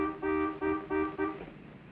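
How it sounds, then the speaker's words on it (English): A car horn honks four short times in quick succession, loud and close, each toot clipped and evenly spaced before the sound fades. "I'll bet you anything he honks for service"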